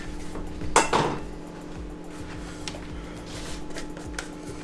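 A hot OONI Volt 12 pizza stone is set down on a cooling rack, giving one clear clank with a short metallic rattle, followed by quieter clinks and handling noises against a steady low hum.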